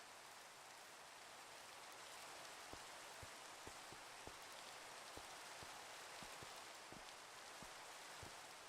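Rain in Minecraft falls as a steady, even hiss that continues throughout, with faint scattered clicks of drops landing and no voices.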